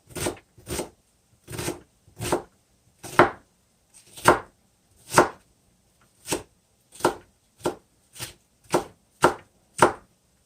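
A knife rough-cuts an onion crisply against a cutting board, about seventeen distinct strokes in short irregular bursts, close up and with no voices.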